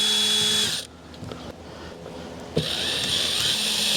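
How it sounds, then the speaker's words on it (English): A power drill drives screws into a plastic Igloo cooler while a latch is replaced, whirring steadily and close by, with a brief drop in pitch and strain midway before it picks back up. "keep in mind you're drilling into plastic"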